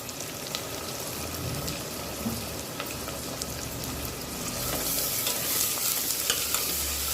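Fennel seeds and sliced onions fry in hot oil for potato masala, a dense continuous sizzle that swells slightly louder toward the end, close up with no voices.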